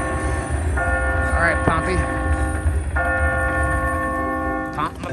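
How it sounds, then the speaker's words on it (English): A Betti the Yetti casino slot machine rings out a bright, sustained bell chime in two long bursts, loud over busy casino background noise. "Oh my God, it's a bell."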